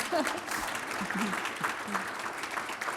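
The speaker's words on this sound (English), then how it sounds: "Folks, can we just give Rachel a round of applause" An audience at a fireside chat on Maryland life sciences breaks into applause, a steady patter of clapping lasting a few seconds with a voice briefly heard over it.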